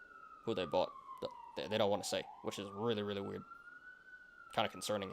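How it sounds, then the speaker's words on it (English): An emergency vehicle siren wails steadily outside, its tone sliding slowly down and back up while someone talks over it close to the microphone. "Sorry about the sirens,"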